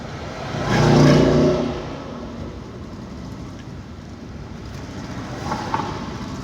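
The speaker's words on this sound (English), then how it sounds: "And it seems the traffic is building up." A car passes close by on a north coast road, swelling loudly then fading, followed by steady background road traffic rumble and a fainter vehicle approaching near the end.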